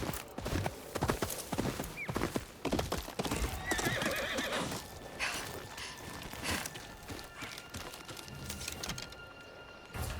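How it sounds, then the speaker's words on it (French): Horse hooves clip-clop at a brisk, uneven pace in the video game Ghost of Yotei, and a horse neighs partway through, all close and fairly loud. "j'en peux entendre les pattes du cheval craquer"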